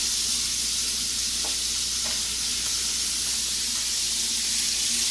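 Cashew chicken pieces stir frying in a pan give a steady, close sizzle with a constant hiss, and a couple of faint soft knocks come through midway.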